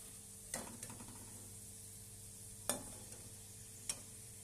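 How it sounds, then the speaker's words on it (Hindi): Food roasting in ghee gives off sparse, faint crackles and a few sharp pops over a quiet, steady background hiss. "चटकने की आवाज़ आ रही है"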